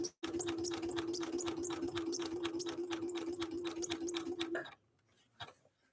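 A Janome Skyline S5 sewing machine stitches a wide zigzag in one steady, rapid run of ticking needle strokes with a constant motor whine, close and clear, then stops abruptly and leaves quiet clicks.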